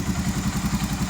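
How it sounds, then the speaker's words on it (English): A Honda 350D 4x4 motorcycle's newly replaced fuel pump cycles after the key is turned on, giving a steady low, pulsing whir with a faint rhythmic clatter, close up and alone. "the fuel pump will cycle, especially when it's dry. You'll hear it, it's loud"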